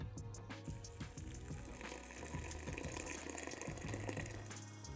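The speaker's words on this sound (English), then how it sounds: "Then pour in 2 litres of boiling water." Two litres of boiling water pour into a pan of washed, drained brown lentils for dal, a steady soft gushing and splashing that runs throughout, fairly quiet with faint tonal background.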